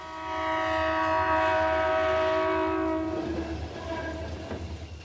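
A Burlington Northern freight train's horn blares in long sustained chords, loud and close, then fades as rumbling railcars roll past underneath, in Fargo.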